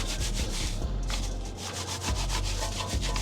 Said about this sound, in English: now I'm going to get my easy wheel brush right here and scrub that barrel